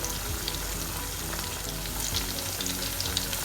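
Chicken kondattam fries in hot oil over a medium flame, making a dense, continuous sizzle with crackling pops. The sound is close and steady, with light stirring and no voices.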